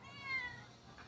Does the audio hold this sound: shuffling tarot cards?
no